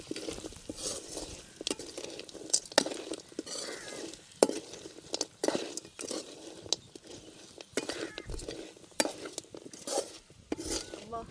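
Dry spice powders and garam masala being mixed into field crabs in a pot, with repeated scraping and clinking of a spoon against metal in an irregular rhythm, close and moderately loud with faint sizzling beneath.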